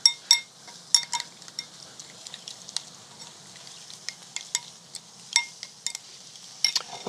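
A spoon stirring olive oil into a dish during outdoor cooking, heard as sharp clinks and light scrapes against the pan in an irregular rhythm over a faint background.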